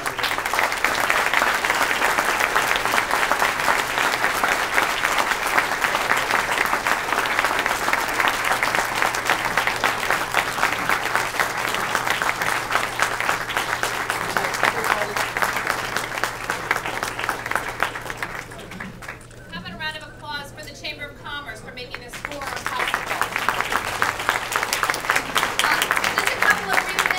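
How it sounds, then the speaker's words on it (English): An audience at a political candidates' debate breakfast in Dutchess gives a long, loud round of applause, steady dense clapping that dips briefly near the end before swelling again. "how about a round of applause?"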